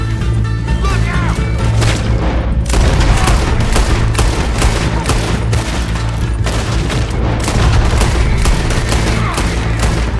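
Rapid, dense bursts of gunfire crackle nonstop with booming shots, a loud chaotic firefight during a bank robbery in Red Dead Redemption 2.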